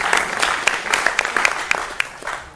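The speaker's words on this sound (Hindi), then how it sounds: "स्वागत कीजिए जोरदार तालियों से" Studio audience applauding on a televised Hindi political debate show, a steady, moderately loud patter of many hands clapping with a few sharper claps standing out, fading toward the end.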